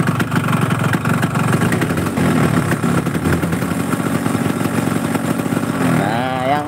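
A Yamaha RX motorcycle engine with a rough, knocking top end runs at a fast choppy idle up close, then takes a slight blip of throttle and revs briefly near the end.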